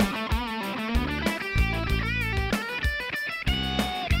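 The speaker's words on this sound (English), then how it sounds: "I've got her plugged into the Marshall Valve State VS19R, and we're going to check out some clean tones" Electric guitar played with a clean tone through a Marshall Valve State VS19R amp, a run of picked notes and chords with clear ringing sustain, loud and close with no talking.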